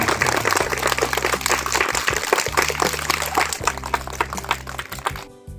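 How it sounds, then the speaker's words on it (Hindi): Schoolchildren clap loudly and continuously in welcome at a school event, a dense wash of applause lasting several seconds before it cuts off, with a low electrical hum beneath. "मैं चाहता हूं कि सभी बच्चे जोरदार तालियों से एक बार फिर से उनका स्वागत करते हैं"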